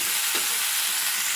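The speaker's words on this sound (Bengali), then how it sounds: "এঁচোড় আলু মশলা দিয়ে একটু ভাজবো" Raw jackfruit and potato with spices fry in a pan, giving a brief, steady, close sizzling hiss.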